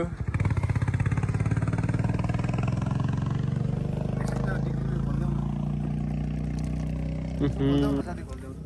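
A vehicle's overheated engine runs with a steady low rumble and rattle, loud and close, while voices talk over it and the engine note drops near the end.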